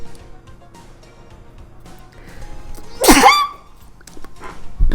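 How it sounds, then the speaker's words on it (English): A single loud, sharp sneeze bursts out midway through an otherwise quiet stretch, followed by a brief thump near the end. "I'm going to sneeze."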